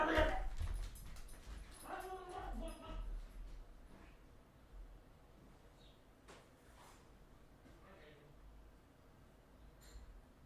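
A dog makes a few whimpering, yipping sounds close by early on, then quieter shuffling and faint noises in a room.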